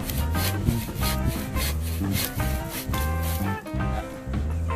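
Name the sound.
bucksaw cutting wood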